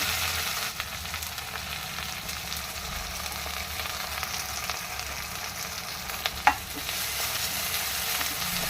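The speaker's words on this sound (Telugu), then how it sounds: "ఇప్పుడు కొద్దిగా పుదీనా వేసుకుందాం. అలాగే అల్లం వెల్లుల్లిపాయ ముద్ద కూడా వేసుకుందాం." Onions sizzle steadily in hot oil as mint and ginger-garlic paste go into the pan, a continuous close crackle with a brief louder clink or stir near the end.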